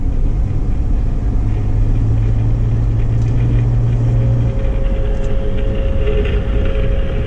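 Vibration of a vehicle's light bar and A-pillar heard through Steelman wireless chassis ears, a steady loud rumbling drone with a low hum that shifts pitch partway through, continuous and close.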